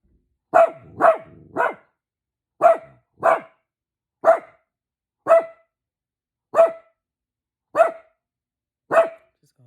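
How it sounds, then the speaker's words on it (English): An excited dog barks loud and close with no talk, first in a quick run of three, then in single sharp barks spaced about a second apart. "sorry, my dog's gonna bark"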